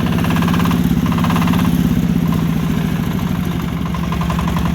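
Kentavr 160B walk-behind tractor with its single-cylinder engine chugging loudly up close in a steady, fast, rhythmic thrum as it moves off, with no talk over it.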